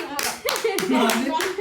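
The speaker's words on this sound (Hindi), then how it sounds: "तालियां बजनी चाहिए भैया" Hands clap in short bursts during a cheerful family moment at home, several quick rounds of claps with people talking over them.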